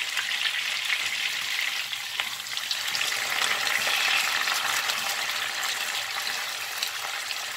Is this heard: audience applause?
no